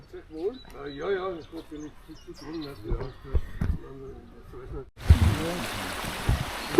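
A small, partly iced-over stream flows through a forest near a home; someone talks over soft ambient sound before a steady, close rush of running water comes in during the last couple of seconds.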